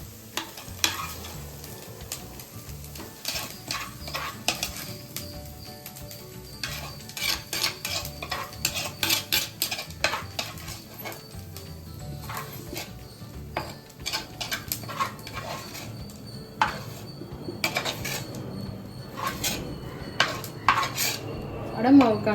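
Cooked onions being scraped from a pan into a bowl of adai dosa batter, with many quick metallic clinks and scrapes of a spoon over a low continuous sizzle, close and steady for the whole stretch.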